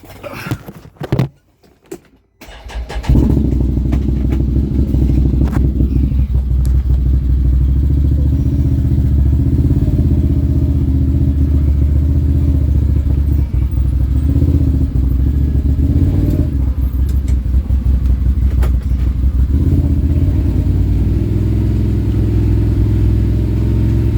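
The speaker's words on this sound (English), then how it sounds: "let's get this old buggy out, rip some stumps out with it." A 2021 Can-Am Maverick Sport Max 1000R side-by-side on a stump-clearing job: a few brief clatters, then the engine fires and runs loud and steady, a deep close rumble that holds to the end.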